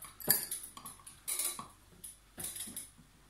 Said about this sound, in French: On va en mettre 3 cuillères dans l'assiette.